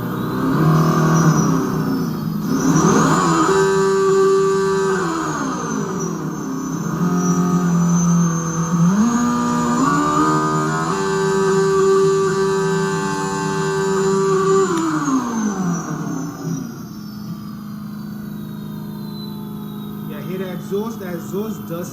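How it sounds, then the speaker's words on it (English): An electric motorcycle in sport mode accelerates through gears, its motor whine rising and falling in pitched sweeps, held close and fairly loud, with brief dips between shifts. "That exhaust does sound good."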